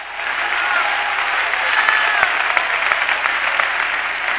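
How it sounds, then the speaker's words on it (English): An audience at a church service claps hands in sustained, dense applause, loud and close, with a few sharper individual claps standing out and faint voices underneath. "Clap your hands to the Lord"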